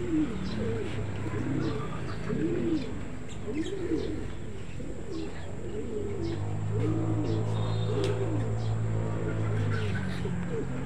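Racing pigeons coo repeatedly in low, rounded phrases over steady outdoor background noise, with a few faint chirps mixed in.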